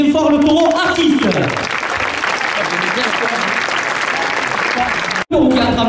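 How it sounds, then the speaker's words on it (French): A crowd at a Camargue bull race in Saintes-Maries-de-la-Mer, a manade Cavallini event, breaks into loud, sustained applause for the bull. An announcer's voice is heard briefly before and after the clapping. "Je vous demande d'applaudir bien fort le taureau artiste."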